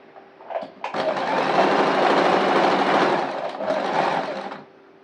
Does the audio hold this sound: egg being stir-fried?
no